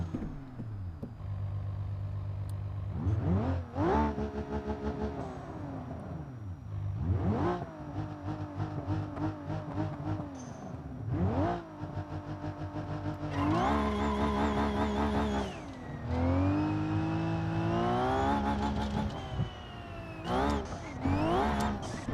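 A Blue BX car in BeamNG.Drive revs hard through its gears, the engine rising and dropping repeatedly with transmission whine, loud and continuous with no talk over it.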